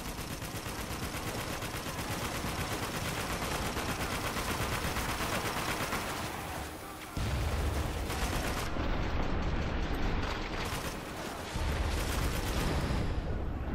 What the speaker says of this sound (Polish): Wybuchy